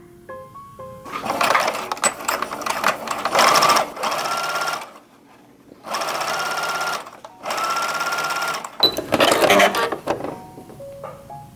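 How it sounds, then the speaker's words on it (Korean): Sewing machine running in bursts while stitching a 1 cm seam along the bottom edge of a turned dress being remade, several loud runs of steady motor whir separated by short pauses, no talking. "이렇게 뒤집은 상태에서 밑에 부분을 끝에서 1cm 재봉해 줍니다."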